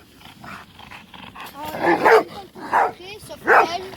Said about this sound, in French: Marcos, c'est un bouvier bernois, c'est un mâle.